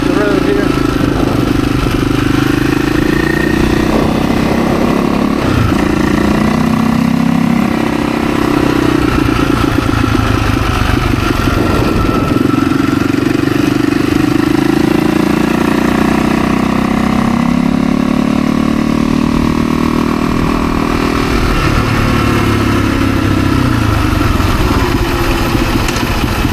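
A dirt bike engine riding up a road, a loud continuous motor drone with shifting pitch as it revs and pulls along, steady throughout with no pauses.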